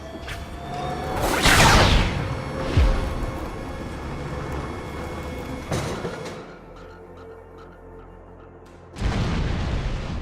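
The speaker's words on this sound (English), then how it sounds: "Please fire the cannon again." A heavy cannon boom with a rushing whoosh in the video game Borderlands 2, followed by rumbling echoes and a second loud blast near the end; no talking.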